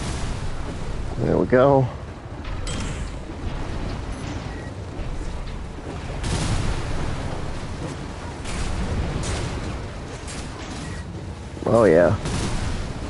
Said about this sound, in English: Use your mobility in the air to get clear of explosions on the ground.